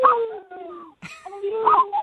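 A dog howls and whines in a drawn-out, rising-and-falling way that mimics a spoken affectionate phrase, two close, loud vocal bursts separated by a short pause.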